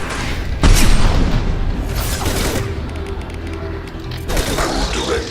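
Loud gunfire and explosions in the video game Mass Effect 2, with a heavy boom and dense rumbling blasts and mechanical clatter filling the scene.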